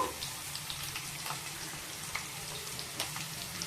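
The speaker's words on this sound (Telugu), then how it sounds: "ఇది మంచిగా వేగనియాలండి. వేగింది కదండి." Egg curry cooking in a pan, a soft steady frying sizzle with faint crackles and small pops throughout, fairly quiet and alone.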